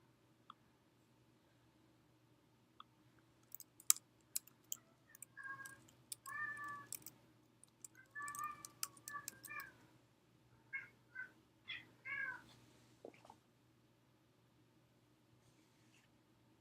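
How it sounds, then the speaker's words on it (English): Pet cat meowing in a quiet indoor room, a string of separate meows and yowls spread over several seconds, fairly close, with faint clicks between them. "My cat's going crazy."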